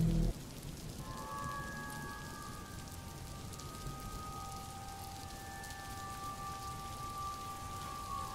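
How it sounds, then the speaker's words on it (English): Soft, steady rain falls in the Stardew Valley video game during a dark weather event, a faint continuous patter with a few thin sustained tones running over it. "I'm out in this rain without a suit."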